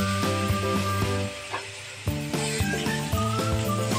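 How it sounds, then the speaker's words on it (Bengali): Spice paste with cumin, coriander and salt sautés in a pan for a chicken dish, sizzling steadily under recurring scraping strokes of stirring, with melodic background music throughout. "নেড়ে চেড়ে ভালো করে মশলাটা কষিয়ে দিই।"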